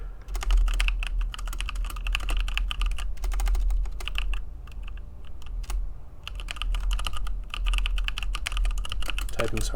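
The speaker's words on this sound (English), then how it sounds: "Typing's hard, sorry guys." Rapid typing on a computer keyboard in a coding session, a dense run of key clacks in bursts with brief pauses, close and fairly loud over a low background hum.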